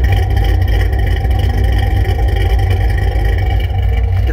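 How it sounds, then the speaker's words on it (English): A 2015 Chevrolet Camaro fitted with an LSA cam and headers idles at about 750 RPM, a steady, loud, choppy low rumble that holds evenly throughout with no talking. "We're idling at 750 RPMs. So it just sounds better,"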